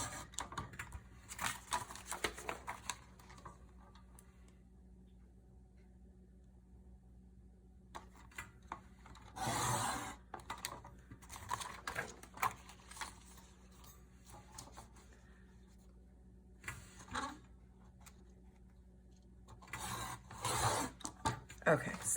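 A blade slices through planner insert paper in several short rasping bursts separated by quiet gaps, close and fairly soft.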